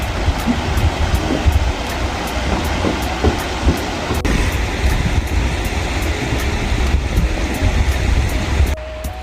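Cheonjiyeon waterfall, fed from the Hallasan mountains, pours as a loud, steady roar of rushing water that stays constant throughout with no voices.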